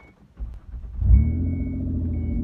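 A car engine cranks briefly, catches, and settles into a steady close idle rumble that continues to the end.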